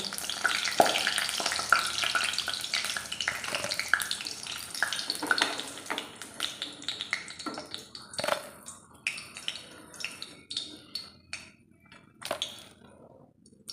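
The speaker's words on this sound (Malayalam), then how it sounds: "നമുക്ക് ബാക്കിയുള്ളത് അതുപോലെ തന്നെ ഒന്ന് വറുത്ത് കൂട്ടിയെടുക്കാം" Potato smileys deep-fry in hot oil with a continuous bubbling sizzle, broken by frequent sharp clinks and scrapes of a utensil stirring and lifting them out.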